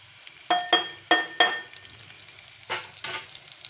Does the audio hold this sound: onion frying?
yes